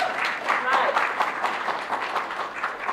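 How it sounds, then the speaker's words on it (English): Audience clapping at a sustainable living empowerment conference, a moderately loud burst of applause rising and falling over a few seconds while someone talks over it. "oh, you want to clap for that?"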